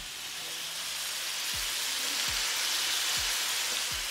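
Butter melts with a steady, even sizzle in a pan on a home stove while nachos are being made, a broadband crackle running unbroken through the clip with a few faint low thumps beneath it.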